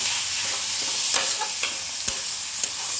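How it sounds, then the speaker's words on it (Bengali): Chicken mince fries in a pan with a continuous close sizzle. A few sharp scrapes and taps of stirring stand out above it, and no one speaks. "আমি চিকেনটা একটু ভেজে নিয়ে আসছি।"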